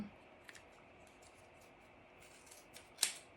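Quiet, crisp snips of scissors trimming thread tails on a tassel, a few faint cuts followed by one sharper, louder snip near the end, with no talking.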